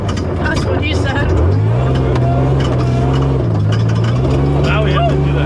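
A prerunner truck makes a low-speed pass on the Silver Lake sand dunes, its steady engine drone rising and falling in pitch, loud and close, with people talking over it throughout.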